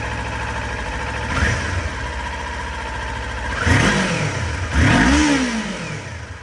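A 2019 Kawasaki Ninja 400 engine runs close by with a steady idle, broken by three revs that climb and fall, the last two longer and louder.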